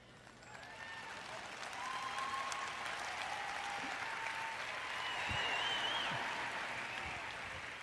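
An audience at a sermon applauds in a steady wash of clapping that swells slightly and keeps going, moderately distant and with no talk over it.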